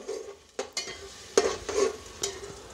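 Tomato puree being stirred into frying potato, cauliflower and pea masala for dhaba-style aloo gobi matar, with several sharp spoon scrapes and clinks against the pan over a soft sizzle.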